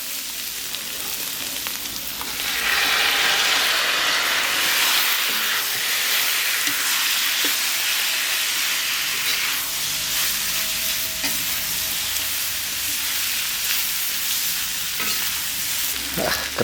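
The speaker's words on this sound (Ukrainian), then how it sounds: "морквочка у нас теж вже почала тушитись так добре, що можна вже додати м'язко" Meat drops into stewing carrots in a kazan for homemade plov, and a loud, steady frying sizzle and hiss quickly rise and carry on, close and continuous, with occasional stirring scrapes.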